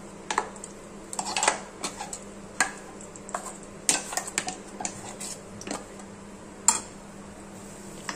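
Moong dal tumbles into melted ghee in a wok and gets stirred, giving irregular clinks and scrapes of a spoon against metal, close and fairly soft, with quiet gaps between the strokes.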